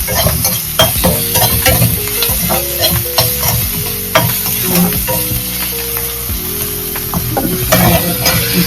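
Chopped ridge gourd sautés in a pan over softened aromatics, with loud close clanks and scrapes of a ladle in irregular strokes over a constant sizzle.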